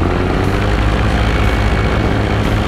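A paramotor engine droning at steady high throttle during taxi and takeoff with a Dudek Nucleon 4 wing, a loud continuous buzzing propeller roar, close and constant without speech.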